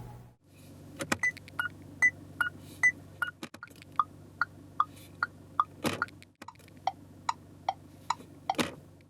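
A steady series of crisp electronic ticks from a 2021 SsangYong Rexton's turn indicator, evenly spaced and fairly close, over a low idling hum with a couple of louder clunks.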